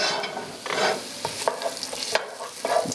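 Chopped whole onion frying in a pan, with a close sizzle broken by scraping stirs and a few sharp clicks of a utensil against the pan.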